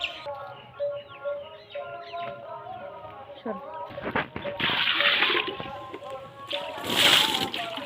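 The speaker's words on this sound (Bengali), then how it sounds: "এতে এখন দু বালতি জল দিয়ে দেবো" Water from buckets is poured over cow dung in a village courtyard, making splashing, sloshing bursts that swell late in the stretch. A person talks over it earlier and birds chirp in the background.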